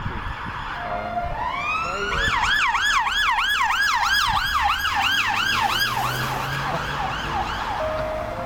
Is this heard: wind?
no